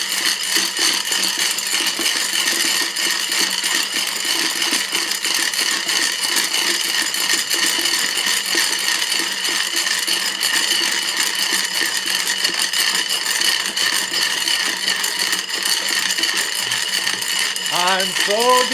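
A lidded tray of .38 Special cartridges shaken hard, giving a dense, continuous metallic rattle and clatter that carries on loudly and without pause for a long stretch.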